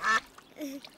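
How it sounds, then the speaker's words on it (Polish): A cartoon duck quacks twice, a loud close quack followed by a softer, lower one, with no talk over it. "ta kaczka kwacze na Tulisia"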